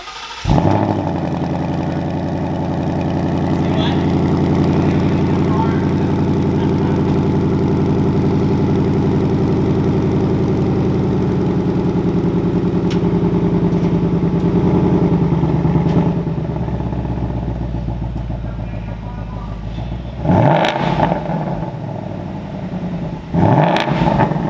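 A 2020 Ford Mustang GT's 700 hp Roush supercharged V8 idles with a steady, loud rumble, then blips and revs sharply twice near the end.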